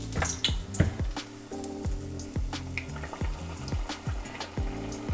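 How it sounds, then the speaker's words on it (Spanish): Oil bubbling and crackling steadily as battered shrimp deep-fry, with sharp pops and drips recurring over a constant sizzle. "Vamos a empezar con los camarones y directo a fritura profunda"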